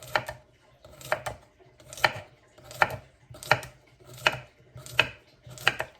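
Salad vegetables cut with a knife on a board in a home kitchen: seven crisp, evenly spaced chops in a steady rhythm, close and clear, with no talk.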